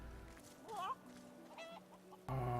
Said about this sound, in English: Oh, a whole bunch of chickens.